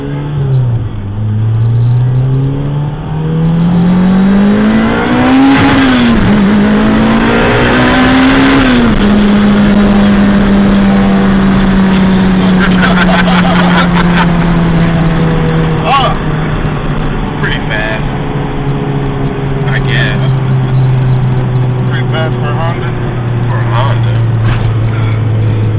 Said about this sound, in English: One burnout, please.